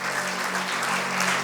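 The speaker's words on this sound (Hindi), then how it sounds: "ताली बजा के प्रभु को धन्यवाद दें" A church congregation claps together in thanks to the Lord, a dense, steady burst of many hands applauding over a low electrical hum from the hall's sound system.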